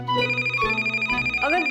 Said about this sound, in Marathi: अगं जयेशचा फोन असेल म्हणून धावत यायला नको.